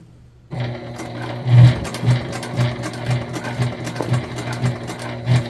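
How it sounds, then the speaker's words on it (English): A sewing machine is slowly hand-cranked through a thick seam of an Olivia Bag, each turn giving a soft, regular thump and whir about twice a second, close and steady with no voices. "we're going to hand crank through the thick seam"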